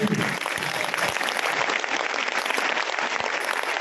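Sustained audience applause at a meeting of contract teachers addressed by legislators, steady and fairly loud throughout with dense clapping and no speech over it.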